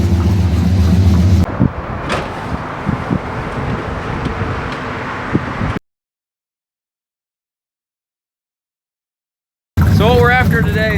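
A 1973 Dodge Charger runs close by with a loud, low rumble, then gives way to wind-buffeted roadway noise, a stretch of silence, and a brief burst of talking at the end.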